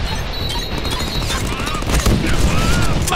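Dense, continuous gunfire and crashing in the Deadpool video game, loud and chaotic for the whole stretch, with a voice talking over it.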